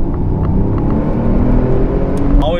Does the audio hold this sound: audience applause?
no